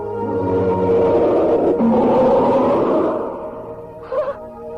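A tiger roar in an Indonesian mystery radio drama set around Mount Merapi, a drawn-out, loud, resonant growling roar lasting several seconds with echo, ending in a brief snarl, alone without speech.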